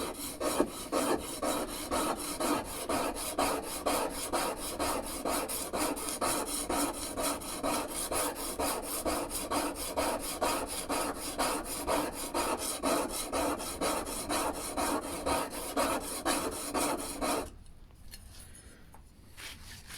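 A No. 6 hand plane blade is rubbed by hand on a 250mm DMT DuoSharp diamond whetstone, making rhythmic back-and-forth rasping strokes, close and steady for about seventeen seconds before stopping into quiet.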